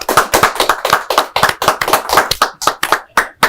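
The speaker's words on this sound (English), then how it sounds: "Applaud the poet." A small high-school poetry slam audience claps for a poet, loud close handclaps in an uneven but brisk rhythm, a few distinct hands standing out, then thinning near the end.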